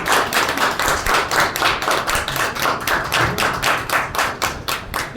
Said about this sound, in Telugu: ప్లీజ్ గట్టిగా చప్పట్లో ప్లీజ్ అందరూ